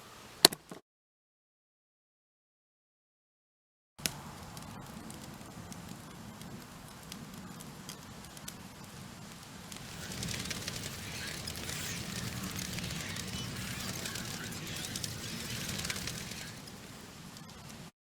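Campfire burning outdoors at night at an off-grid RV homestead, a steady soft crackle and hiss with scattered pops, running continuously at moderate level after a brief silent gap.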